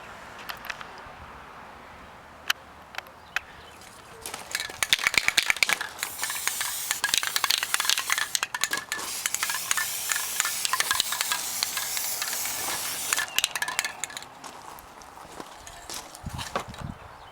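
Developer spray hissing onto a metal shaft for dye penetrant crack testing, in bursts of broadband hiss over several seconds with short clicks at the start, fairly close and steady.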